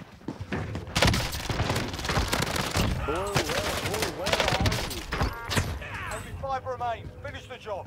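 Bursts of FINN LMG machine-gun fire in Call of Duty Warzone rattle loudly alongside other gunshots and impacts, with sustained automatic fire through most of the stretch and sounds of a battle all around.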